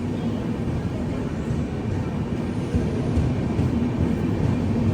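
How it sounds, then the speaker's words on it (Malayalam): The Bangalore Mail train pulls out of Bengaluru Cantonment station with a steady, broad rumble and rolling rail noise that swells slightly partway through, heard alone without voices. "ബാംഗ്ലൂർ മെയിൽ ഇതാ പോവുകയാണ്"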